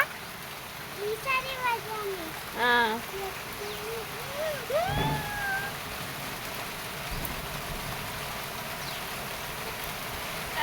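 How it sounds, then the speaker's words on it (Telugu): Steady rain hisses outdoors on a school day. Brief voices and squeaky calls rise over it early, then the even downpour carries on alone. "భలే వర్షం పడుతుంది కదా ఇవ్వాలనే"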